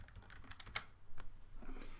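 Someone types on a computer keyboard to rename an object, making a quick run of soft, close key clicks that is uneven and fairly quiet, with no voices.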